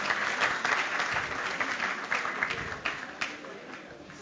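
A large audience bursts into sustained, dense applause to welcome Amitabh Bachchan at the Society Young Achievers Awards show, the clapping loud and steady throughout with a few sharper peaks toward the end.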